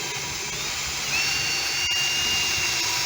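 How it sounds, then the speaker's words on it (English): A Lincoln Electric Pro MIG 135 flux-core welder running gasless on its highest setting, a loud continuous crackling buzz throughout with a slight surge partway, close and alone. "Pro MIG 135, no gas, flux core. I'm running it on D"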